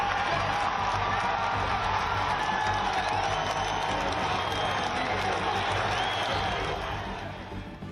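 A large rally crowd roars and cheers after former US President Donald Trump is shot, with dense sustained shouting and scattered clapping filling the space before tapering off at the end.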